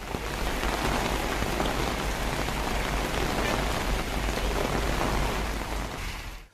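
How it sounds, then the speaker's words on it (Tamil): Heavy rain pours steadily over villages around Vandavasi, a dense, loud, unbroken hiss of drops on surfaces that continues without pause before cutting off abruptly at the end. "வந்தவாசி மற்றும் சுற்றியுள்ள பல்வேறு கிராமங்களில் திடீர் என பலத்த மழை பெய்தது."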